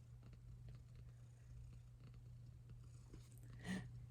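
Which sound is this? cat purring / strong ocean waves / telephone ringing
cat purring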